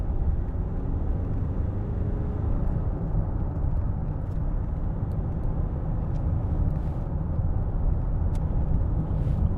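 A 2007 Land Rover Freelander 2 TD4 diesel on the move, heard from inside as a steady low engine and road rumble, continuous and fairly loud with little variation, with a few faint ticks above it.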